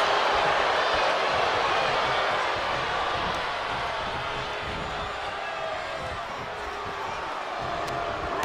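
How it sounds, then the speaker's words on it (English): A capacity arena crowd in the WWE 2K23 wrestling game roars as a continuous, loud, dense wash of noise that holds steady for the whole stretch. "you hear this capacity crowd following you on that journey"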